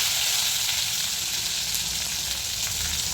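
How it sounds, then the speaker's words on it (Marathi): Garlic and onion fry in hot oil with a steady, dense sizzle close up, an even hiss lasting throughout with faint stirring and no voices. "कांदा पण आपल्याला छान गोल्डन लाल होईपर्यंत आपण त्याला परतायचा"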